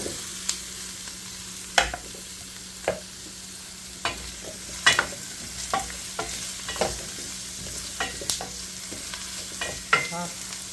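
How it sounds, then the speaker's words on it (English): Potato pieces fry in a pan with cabbage for buckwheat pasta, a soft continuous sizzle broken by repeated scraping clatters as they are tossed and stirred, close and fairly quiet, with no talking. "Now I'm going to go ahead and add the potatoes."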